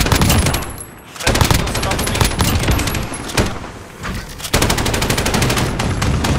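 Call of Duty Search and Destroy gunfire rattles in dense automatic bursts, loud and close, broken by a couple of short pauses, with a player's voice faintly mixed in.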